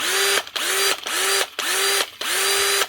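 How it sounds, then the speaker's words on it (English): A repaired Makita DF333D cordless drill with freshly fitted brushes still bedding in, running at close range in five loud, steady bursts separated by brief stops as the trigger is released and squeezed again. "Another Makita drill up and running again"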